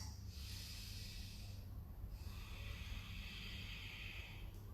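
Two slow, deep breaths drawn in and pushed out through the nose while holding a high plank in an intermediate yoga session, soft and steady over a low background hum, with a short pause between them.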